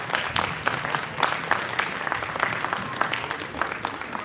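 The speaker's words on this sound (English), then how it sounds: "Let's give all of them a round of applause." Audience at a Christmas piano and voice recital gives a round of applause, many hands clapping in an uneven patter with sharper individual claps standing out, moderately loud and sustained.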